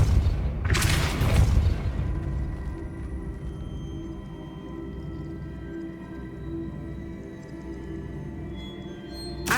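The Depulso spell is cast in the Hogwarts Legacy video game, a single sharp whooshing burst near the start that fades into a low, steady game ambience, with no talking.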